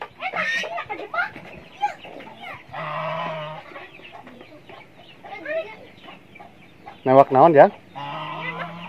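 Chickens cluck repeatedly in a small hillside village in northern Cianjur, with bursts of loud, close squawks near the end, while people talk nearby in between.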